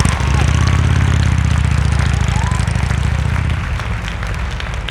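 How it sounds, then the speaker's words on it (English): A motorcycle engine runs steadily at low speed with the throttle held loaded during advanced slow-speed riding practice in North Carolina, a loud, continuous rumble that eases slightly near the end. "Whole engine is shaking. Keep that throttle loaded."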